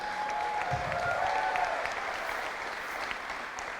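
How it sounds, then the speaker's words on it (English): Applause from a press conference audience honoring Ozzy, a steady wash of clapping hands lasting the full few seconds at moderate, even loudness, with a faint tonal sound running beneath it early on. "Let's give Ozzy a big round of applause"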